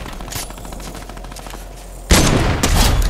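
Gunfire from Fortnite Battle Royale gameplay: a quieter shot early on, then a sudden loud blast with a burst of follow-up fire near the end, sharp and close.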